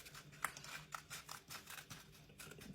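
Scissors snipping through craft felt in a short run of quiet, rhythmic cuts, about eight close crisp snips in quick succession with no talking.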